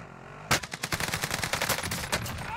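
Gunfire in Warzone, a rapid burst of automatic shots starting abruptly and rattling on for about two seconds, close and sharp.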